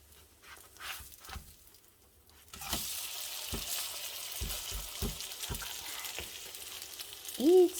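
Carrots pan fry in a small amount of oil, giving a continuous close sizzle that starts partway in, broken by soft taps of stirring and a brief squeak near the end.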